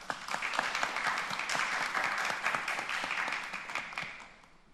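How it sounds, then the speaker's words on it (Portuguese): An audience applauds a guest speaker at a talk on financial education and investing, dense steady clapping filling the room at full strength before tapering off near the end. "salva de palmas para o nosso palestrante aqui hoje."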